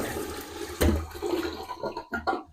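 Water rushes into a running toilet tank during a refill after its fill level was adjusted, with a sharp gurgling surge, then a steady hiss of refilling and a few sputtering bursts.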